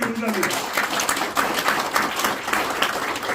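A church congregation applauds after a mass Korean Protestant prayer rally in Gwanghwamun, Seoul, a dense steady wash of clapping that runs the whole stretch.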